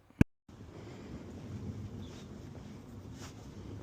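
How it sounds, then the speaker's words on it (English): A small boat with a very noisy engine, under way in the wind: a steady low rumble and rushing wind buffeting the microphone throughout, after a brief sharp knock at the start, no talking. "with a very noisy engine and wind"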